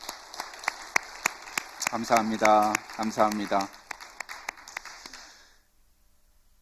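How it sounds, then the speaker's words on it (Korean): Scattered, distinct claps from a church congregation at a Korean Sunday service, spaced irregularly and sounding close, with someone speaking briefly over them midway before the clapping fades out into near silence. "우리 박수로 주님께 영광 올려드릴까요?"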